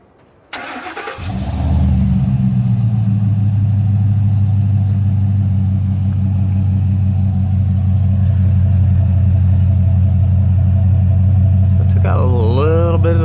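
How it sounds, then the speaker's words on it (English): Ford F250 gas truck with a 6.2 V8 and Flo Pro Twister muffler fires up and settles into a loud, steady low exhaust rumble, holding a deep idle close by with a brief revving at the end. "Got a little bit of the rumble, the amount of volume, but it still sounds really good."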